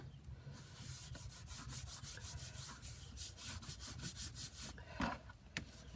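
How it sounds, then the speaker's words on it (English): A bone folder burnishing down the folds of a paper gingerbread house gift packet, making steady, repeated close rubbing strokes in a continuous rhythm and ending in a couple of sharper swipes, with no voices. "And I'm burnishing that down"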